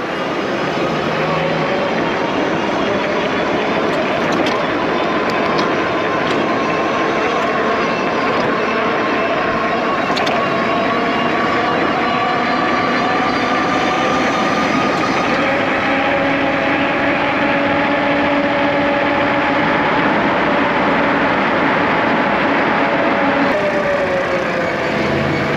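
Mukuta Knight full-suspension e-bike ridden at top speed, a steady rising motor whine with heavy wind rush that holds loud and continuous throughout.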